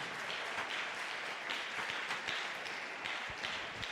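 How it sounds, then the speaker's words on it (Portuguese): A church congregation applauds during a sermon, a steady wash of many hands clapping at moderate distance, fairly soft and even throughout without speech. "Vamos aplaudir o Senhor por isso."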